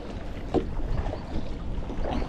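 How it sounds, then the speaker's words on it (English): A 10-foot Pelican Catch Mode 110 kayak is paddled against strong wind, with soft splashing strokes sounding under gusty wind noise close to the microphone. "It's not a bad paddle against the wind."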